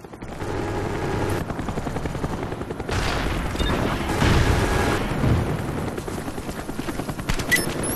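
A Cobra attack helicopter roars through a Call of Duty Black Ops match on the Hanoi map, its loud rotor drone mixed with bursts of gunfire and explosions throughout, with no talking.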